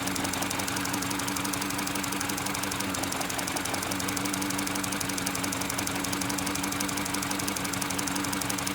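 Car engine with a cylinder 2 misfire idling up close, a steady buzzing drone with an irregular knocking pulse running through it and no talking.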